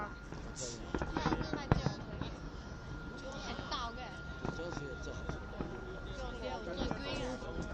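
Crackling pops and scattered bangs from 2009 New Year fireworks in Beijing, heard from a distance under people chatting and exclaiming throughout.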